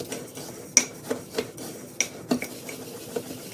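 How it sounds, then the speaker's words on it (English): A spoon stirs a dry mix of epsom salt bath soak with essential oils in a bowl, giving soft gritty scraping broken by a series of sharp clinks against the container, close and unaccompanied by talk. "Then I take my spoon and I start stirring it all together."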